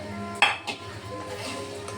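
Beaten eggs for a Kokani-style egg bhurji clink against the bowl, starting with one sharp metallic strike and then a softer knock as stirring scrapes along at close range.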